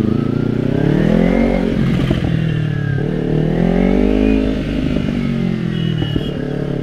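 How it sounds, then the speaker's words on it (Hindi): A Kawasaki Ninja 300 motorcycle revs hard and loud up close, its exhaust rising and falling through several pulls with crackling pops and backfires scattered between the revs. "प्योरली क्रैकल्स मुझे विजिबल है भाई, ऐसे पट पट करके निकल रहे हैं ना बैक फायर्स"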